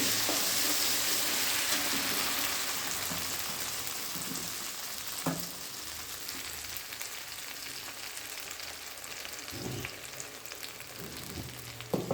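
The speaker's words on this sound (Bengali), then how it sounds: "মশলাটা ভালো করে কষিয়ে নিচ্ছি।" Steady sizzling of a spice paste sautéing in a pan, with a few soft clicks and scrapes of stirring, fairly close and continuous.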